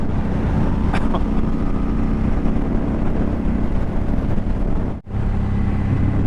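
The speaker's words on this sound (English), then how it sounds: "Man, this bike sounds so freaking good." A Suzuki Boulevard M109R motorcycle on a ride, its engine a steady deep drone mixed with wind rush, with one brief dropout near the end.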